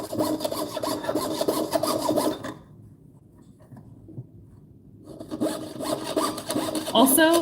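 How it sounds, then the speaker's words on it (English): A hand saw cuts wood with long, steady rasping strokes, loud and close, pausing for a couple of seconds before the sawing resumes. "I am not pushing forward really at all with the saw blade. I'm making very long strokes"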